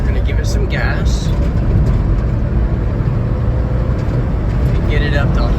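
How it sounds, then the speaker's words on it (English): Daihatsu Hijet engine drone pulling hard through a corner, a steady, loud low rumble filling the cabin throughout, with faint voices briefly audible over it. "All right, so now as we go around this corner, I'm gonna give it some gas."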